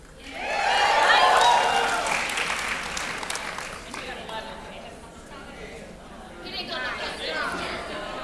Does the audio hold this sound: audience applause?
yes